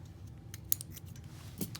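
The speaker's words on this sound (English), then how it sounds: "I'm going to cut this part off right here." Scissors snip through a tent pole's shock cord, with a couple of short sharp cuts close by in an otherwise quiet space.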